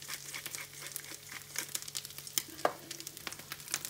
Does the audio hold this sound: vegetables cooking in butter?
yes